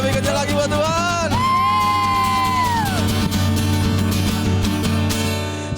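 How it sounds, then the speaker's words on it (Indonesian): A church congregation cheers, whoops and shouts loudly in praise of God during a worship service, with a sustained high yell rising over a dense crowd roar and a steady low musical hum underneath. "Sorak-sorai lebih kencang lagi buat Tuhan."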